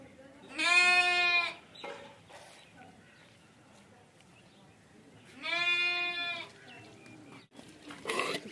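Goats in a Punjab village farmyard give two loud, drawn-out bleats about five seconds apart, close by, with quieter rustling and brief noises in between.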